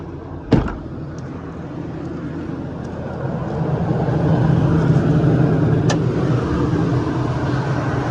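A 2019 Ford F550 diesel truck starts with a sharp clunk of ignition, then its engine settles into a steady, rumbling idle that grows slightly louder and fuller, close by and alone.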